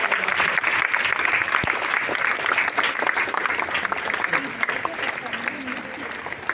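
Dense, sustained applause fills a hall at a student volunteer appreciation program as certificates are handed out, many hands clapping close and loud with slight tapering toward the end.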